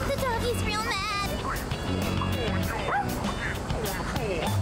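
Angry dog barking in the video game Persona 3 Reload, a stray chasing a boy after its tail was stepped on; repeated yips and barks sound over busy game music and effects.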